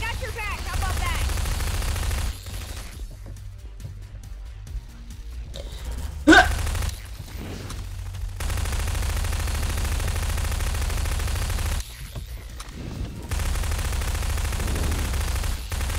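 A turret machine gun fires in long sustained bursts in a Garry's Mod cooperative map, loud and close, broken by short pauses and a sharp louder shot, with players talking over the action.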